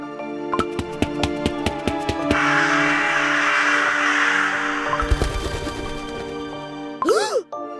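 Crows cawing in the CookieRun Kingdom video game, harsh repeated calls over a steady game music bed with tinkling chimes, ending in a loud rising squawk near the close.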